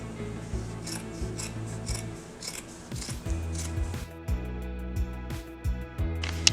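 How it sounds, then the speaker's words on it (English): Scissors cut through thick blanket fabric along a pinned line for a sweat jacket, giving repeated close crunching snips at an uneven pace, with some rubbing between cuts. "I'm just going to go along the pins and just cut those out."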